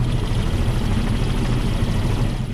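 A helicopter dumping water on wildfire flames, heard as a dense, steady rotor and engine roar with low rumble and broad rushing noise throughout.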